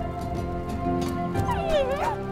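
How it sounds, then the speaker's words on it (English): A dog in a strategy video game gives worried, anxious vocalizations: close, loud whimpers and yips that rise into a whining howl over a steady background of game ambience. "Worried barking."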